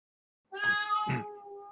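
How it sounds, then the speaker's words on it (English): A cat meows twice in quick succession, close and clear, the second call drawn out and trailing off, during a podcast recording with no talk over it. "Oh, there's a cat. There's a cat."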